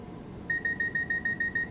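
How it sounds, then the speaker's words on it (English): Vigilance alarm in the Train Sim World 2 cab, a rapid series of sharp, regular electronic beeps starting abruptly and repeating steadily over a low background rumble. "that beeping noise is the vigilant, means you haven't touched the controls for 60 seconds"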